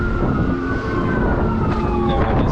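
An ambulance siren wails loudly and steadily close by in street traffic, its tones sliding as the vehicle passes, with road and engine rumble underneath.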